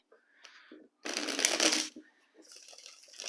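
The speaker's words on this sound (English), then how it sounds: "Let us get all the cards on the table." Tarot cards are shuffled and laid out on a table in loud, close riffling bursts, with quieter card handling and faint snuffling between them.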